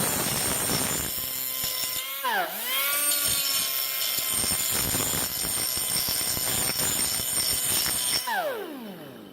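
A large sanding disc grinding the upper surface of a custom hot rod door handle gives a loud, steady mechanical whine that dips and recovers in pitch as it bites, then winds down at the end.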